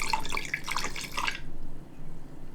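Fire cider, apple cider vinegar, falls in quick irregular drips for over a second while being poured, close and clear, then stops, leaving a quiet room.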